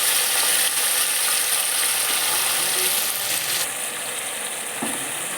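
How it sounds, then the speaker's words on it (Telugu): Cleaned tripe with peeled garlic fries in hot oil for a gongura tripe curry, giving a loud, dense, steady sizzle that eases slightly toward the end. "ఈ బోటిని ఒక 5 నిమిషాలు నూనెలో ఉడికించుకోండి."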